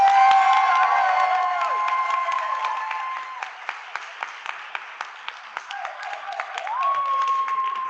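Audience clapping during a climate debate vote, with cheers and whoops over a crowd of hands at the start, thinning to scattered individual claps, then swelling again with shouts and whistles.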